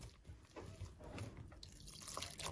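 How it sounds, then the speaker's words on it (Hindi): Water trickles and splashes into a bowl of flour, salt and oil for Bombay mix dough up close, quiet and uneven, with soft wet mixing sounds. "अब डालेंगे पानी।"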